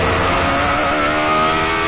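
A Radical sports car engine screams at high revs on a Nurburgring lap, a loud, dense, sustained whine captured close up with no pauses and no voices.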